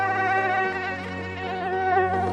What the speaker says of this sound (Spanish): Por ejemplo, los mosquitos.